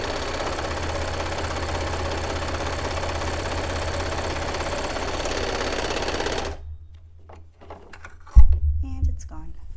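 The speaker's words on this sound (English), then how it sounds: "I can do that all in one step on the serger" A serger overlocker trims the fabric edge of reusable paper towels with a fast, steady mechanical whir for about six and a half seconds. It then stops abruptly, and a brief clatter and talking follow.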